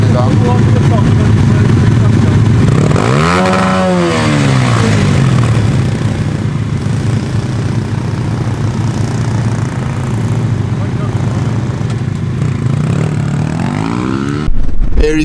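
A race vehicle on slick tyres warms up on a racetrack, its loud engine droning steadily with a rising and falling pass as it moves by, close and continuous.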